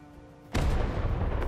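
A loud explosion in Final Fantasy XV during an attack on an enemy base bursts in suddenly after a quiet moment, then a deep rumbling boom sustains and rolls on.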